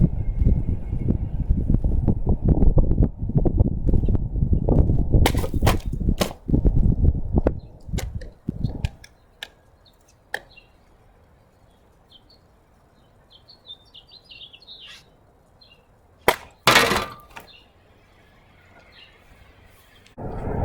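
A sword cutting through a large plastic milk jug outdoors, a series of sharp close whacks and rustles in the opening seconds, then a quiet stretch with faint birdsong and wind before two more loud strikes.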